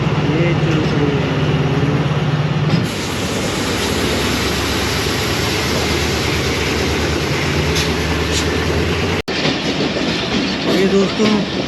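The Badar Express passenger train rumbles steadily along the rails at speed near a railway crossing before Sheikhupura station, Pakistan, with rhythmic clattering of wheels and a broad, continuous roar; a voice speaks briefly at the start.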